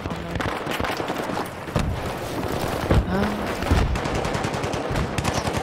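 Minigun fire in the video game Battlefield 3, dense rapid bursts of gunfire with booming impacts and explosions, loud and continuous with no talking.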